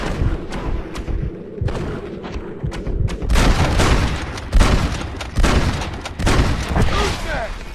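Gunshots boom in a Red Dead Redemption shootout, a series of loud, sharp reports and heavy thuds at irregular intervals, close and punchy, mixed with brief game voices.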